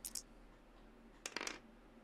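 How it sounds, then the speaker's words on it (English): Dice roll during a tabletop miniatures game tournament: a brief clatter at the start, then a second, longer rattle as several dice tumble across a hard surface, close and fairly quiet. "Three dice into Vader."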